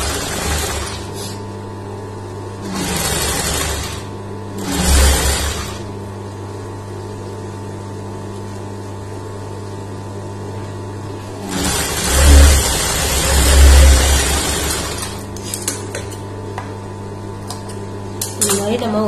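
A sewing machine runs in short bursts while stitching two blouse pieces together, its mechanical whir and clatter rising in a few separate passes over a steady low hum, with some speech between the runs.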